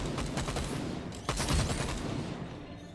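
Gunfire in the VR shooter Stormland: rapid bursts of shots in close succession, loud and near, with a heavier burst midway, over a constant game background.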